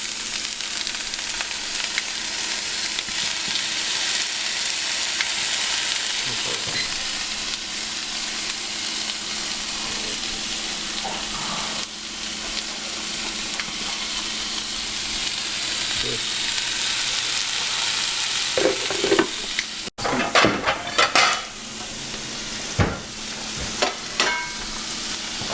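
Steak fries in a pan with a constant close hiss and crackle of sizzling fat, joined near the end by a few utensil clacks and scrapes.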